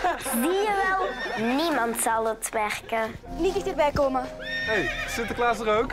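A horse whinnies amid lively talk, with hoof clops and other voices mixed in close by.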